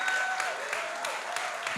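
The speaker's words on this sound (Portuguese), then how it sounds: "Uma forte salva de palmas para" Faint studio audience applause at an interview with kuduro artist Titica rises briefly and steadily under a voice speaking over it.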